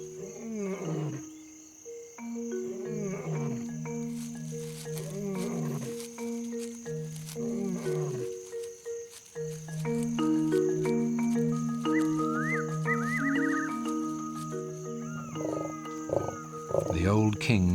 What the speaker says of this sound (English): she meets her adult daughter, who also heard the male lion's roars.